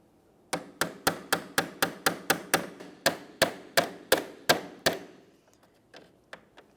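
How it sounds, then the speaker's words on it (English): A tool taps on the center pin of a plastic push clip holding the grille of a 2006-2011 Honda Civic to the bumper cover, giving about fifteen sharp, evenly spaced knocks, then a few softer taps. "we'll tap on this center piece"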